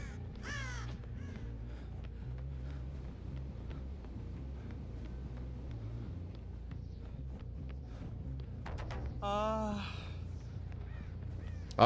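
Crows cawing in the online horror game Dead by Daylight, a few harsh calls near the start and a louder burst near the end over a steady low rumble of game ambience.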